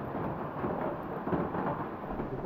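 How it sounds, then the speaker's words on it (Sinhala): Heavy rain pours in a dense, steady broadband roar that stays close and loud throughout, with no speech. "මේ වැස්ස හොඳනම සැරයි."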